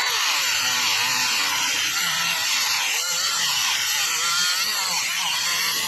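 A power tool trims off a plastic trim piece on a pre-facelift Audi TT Mk2, producing a loud, steady, high-pitched grinding whine that runs without pause for several seconds at close range.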